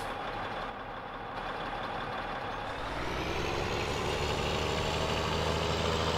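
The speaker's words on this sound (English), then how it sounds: "I'll go ahead and drive the big bud 450 down here." A Big Bud 450 tractor engine in Farming Simulator 17 drones steadily and loudly, its low rumble thickening and rising in pitch toward the end as the machine gets under way, with no talk over it.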